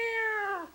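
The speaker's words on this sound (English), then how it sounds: "it's a cat. the Estonian tiger." A single drawn-out cat meow, close and clear, held steady and then sliding downward in pitch as it fades out.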